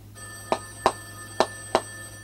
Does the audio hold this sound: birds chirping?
no